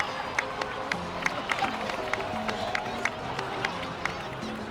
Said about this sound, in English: so please give another round of applause for them